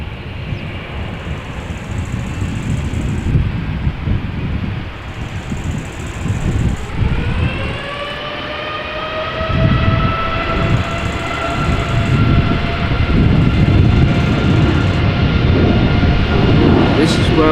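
A TUI Boeing 787 Dreamliner departs Amsterdam Schiphol Airport, its low rumble joined midway by a rising, spooling turbine whine that settles into a sustained, loud tone, while a voice talks over it.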